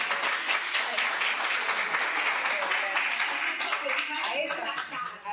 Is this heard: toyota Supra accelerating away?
no